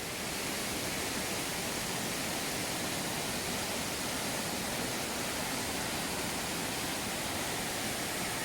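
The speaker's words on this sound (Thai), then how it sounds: "ระวังเสียงน้ำตกด้วยนะครับทุกคน" Steady, loud broadband rush of a waterfall at Boriphat falls in Songkhla, continuous and unbroken throughout without any talking.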